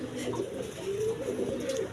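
Large pigeons coo at a pigeon sale, low throaty warbles repeating close by, with a faint voice mixed in.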